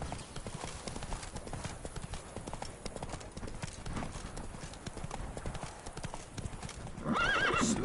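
Roach, the horse in The Witcher 3, gallops with a quick, even drumming of hooves held at moderate volume, ending with a short neigh near the close.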